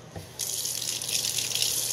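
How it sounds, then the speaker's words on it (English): Really hot water rushes from a tap into a kitchen sink, gushing in abruptly after a soft knock and then pouring steadily and close up without any talking. "going to get some really hot water in the sink"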